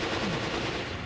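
Gunfire from the Resident Evil Revelations video game, a finishing shot that ends a long boss battle, heard as a dense, loud burst of rapid shots that fills the whole moment with no speech over it.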